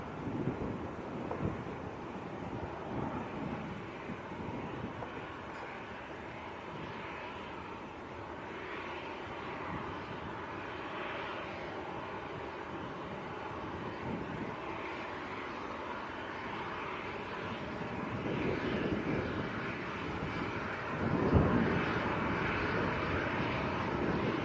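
A Turkish airliner approaches Manchester airport, a broad, distant jet roar that slowly swells and stays steady, mixed with wind buffeting the microphone.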